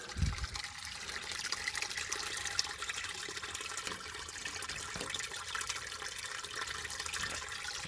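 Steady rushing and trickling of water as field drainage pours through a drain tile into a flooded creek, a continuous broadband wash that stays fairly even throughout with no talking over it.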